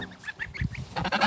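A pet goose gives a short run of nasal honks, fairly quiet and a little ragged, with a louder burst near the end.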